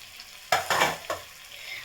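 A spoon scrapes and stirs red chili powder and coriander-cumin powder in a hot pan for samosa filling, three quick scraping strokes over a soft, steady sizzle.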